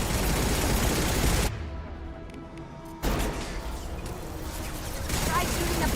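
Dense, loud bursts of automatic gunfire and impacts from a Mass Effect video game battle, cutting out briefly to a quieter stretch before the shooting resumes, with a voice speaking over the action.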